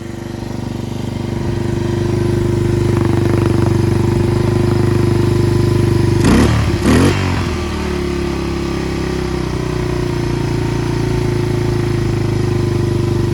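A Yamaha 225DX Tri-Moto three-wheeler's small engine idles close by with a steady, rough putter, and a couple of brief knocks or clatters come in midway.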